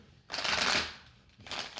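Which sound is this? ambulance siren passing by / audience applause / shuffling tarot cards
shuffling tarot cards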